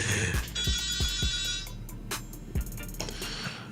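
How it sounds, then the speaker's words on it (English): Electronic telephone ringtone signalling an incoming call during a radio talk show, repeating in bright tonal bursts with rhythmic thumps underneath, loud and close. "Oh, hey, we got a phone call."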